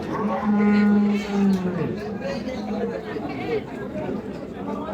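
A pregnant cow with her calf at a cattle market in Joypurhat gives a loud, drawn-out moo nearby, while buyers chatter and someone talks over the busy crowd noise.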